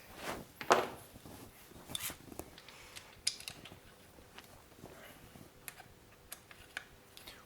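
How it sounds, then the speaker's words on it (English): Sharp metallic clicks and small knocks from a tool working the lower leg bolts of a Formula 35 bicycle suspension fork, one louder click early on, then scattered quieter ticks close by. "Replace the lower leg bolts."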